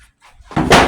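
A plywood sheet topples over beside a cabinet being built, a sudden loud clattering slam after a moment of quiet, with a brief rattling tail.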